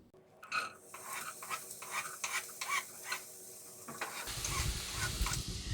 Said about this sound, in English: We're gonna let the onion and pepper saute until they soften a little